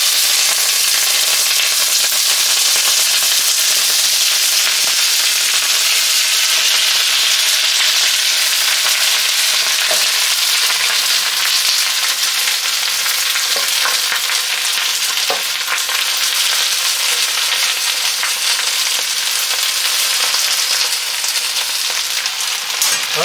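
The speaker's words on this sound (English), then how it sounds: "You want to make sure your pan is nice and hot, and we're going to start adding in the vegetables." Vegetables sear in a hot oiled pan for yakisoba, a continuous bright crackling sizzle that holds steady and loud throughout with faint scraping stirs.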